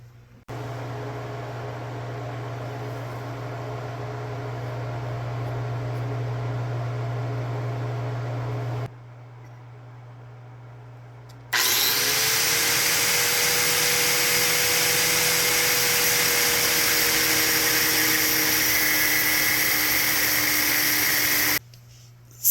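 A cut-off tool grinds through a metal T56 shifter conversion kit part in a garage, a loud steady high-pitched whine with shifting tone running alone for about ten seconds after an earlier lower motor hum and a pause.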